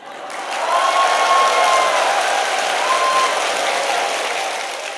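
Congregation applauding during an Easter Sunday church service, a broad steady wash of clapping that swells and holds for several seconds, with a faint sung or sustained tone drifting over it.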